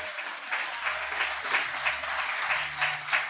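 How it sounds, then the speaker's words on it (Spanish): A church congregation at a Sunday service applauds in a steady wash of many hands clapping, moderately loud and continuous with a faint low hum underneath. "Si va a aplaudir, apláudalo a él."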